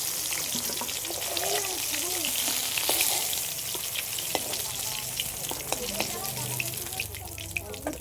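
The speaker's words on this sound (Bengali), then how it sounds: "এই মাছটা ভাজতে ভাজতে কতটা তেল গুলোছে দেখছি" Hilsa fish frying in hot oil in a pan gives a steady, close crackling sizzle throughout, with scattered small pops and light clinks over it.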